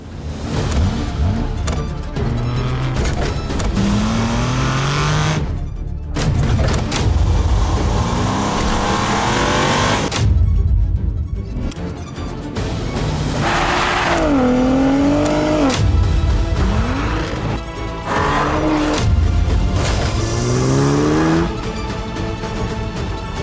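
Car engines rev hard in repeated sweeping bursts with rising and falling pitch and occasional tire squeal, loud and continuous throughout, with brief gaps between runs.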